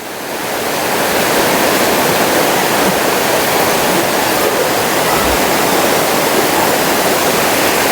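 The first tier of the Seven Sisters Waterfalls near Cherrapunji in Meghalaya pours down in a dense, unbroken roar of falling water, loud and steady throughout.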